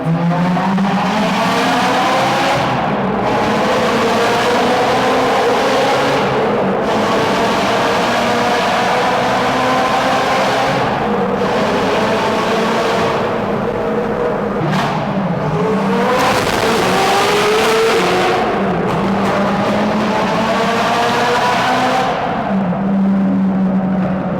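A Koenigsegg Jesko hypercar engine screams loud and close in a tunnel, revving hard and rising in pitch through repeated gear changes, with tyre noise underneath and no talking.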